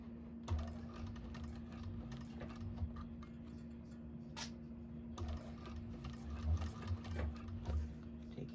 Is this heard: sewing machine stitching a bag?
yes